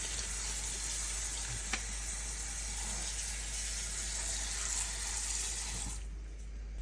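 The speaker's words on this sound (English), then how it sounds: "I already washed my fresh ingredients before, but I am going to wash it all over again" Fresh ingredients for steamed snapper rinsed under a running kitchen tap, a steady broadband rush of water lasting several seconds, with a brief knock partway through and the flow easing near the end.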